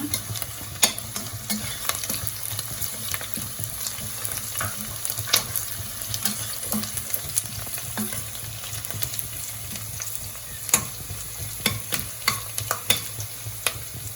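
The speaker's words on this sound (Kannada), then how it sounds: "ಹಸಿಮೆಣಸಿನ್ಕಾಯಿ ಮತ್ತು ಬೆಳ್ಳುಳ್ಳಿ ಒಗ್ಗರಣೆಗೆ ಹಾಕೊಂಡ್ಬಿಡೋಣ" Green chilli and garlic tempering in hot oil, a continuous close sizzle punctuated by frequent sharp taps and scrapes of a stirring spoon against the pan.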